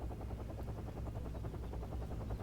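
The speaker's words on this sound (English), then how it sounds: "time to re-arm our helicopters, and we're going to move in with infantry" Military helicopters in the real-time strategy game Wargame give off a steady, droning rotor whir with fast, even blade chop, continuous and fairly loud throughout, with no voices.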